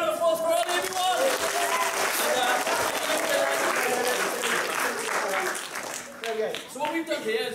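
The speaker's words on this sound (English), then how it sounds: "Give a round of applause for Ollie," Lecture-hall audience at a Christmas science lecture giving a dense, loud round of applause for a young volunteer, steady clapping that tapers slightly toward the end with some voices mixed in.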